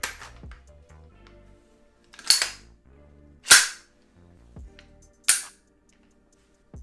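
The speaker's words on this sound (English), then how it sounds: "let's clear the weapon" A 300 Blackout AR pistol on a Diamondback DB15 lower being cleared: three sharp, loud metallic clacks of the action cycling, spaced about a second apart, with soft handling clicks between them.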